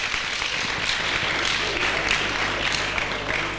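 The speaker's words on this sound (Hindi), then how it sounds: "जोरदार तालियां छोटी बेटी के लिए बजाइएगा" Applause from an audience at a church healing conference in Mirpurkhas, given for a little girl: a steady, moderately loud wash of many hands clapping that holds evenly for a few seconds, with no talk over it.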